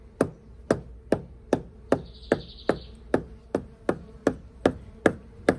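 Steady series of sharp wooden knocks on a wooden hive box of mandaçaia stingless bees, about two per second, loud and close, with a faint high buzzing of the bees briefly rising in the background.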